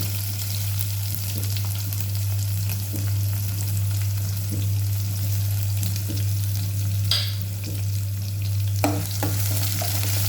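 Crushed garlic, cumin and green chillies fry gently over a low flame, giving a steady soft sizzle with a few brief stir clinks near the end and no voices.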